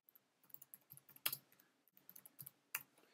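Keys clatter on a computer keyboard in a run of quiet, uneven taps, with a few sharper louder strokes standing out, close and soft overall.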